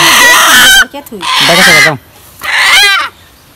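A hen gives three loud, close calls in a row, each a harsh, drawn-out clucking squawk separated by short pauses.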